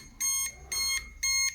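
A security alarm triggered by a faulty Micron iQ60 PIR sensor zone sounds three loud, evenly spaced electronic beep bursts, each about a quarter second long, over a quiet room hum.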